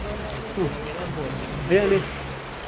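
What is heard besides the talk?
rain getting heavier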